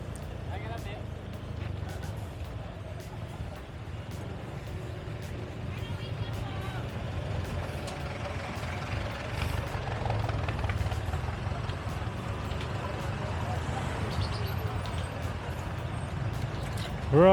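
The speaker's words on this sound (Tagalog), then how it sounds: "Grabe yung traffic." Dense, steady rumble of heavy night-time road traffic in Divisoria, Manila, with engines and horns blending into a constant wash, while someone talks over it throughout.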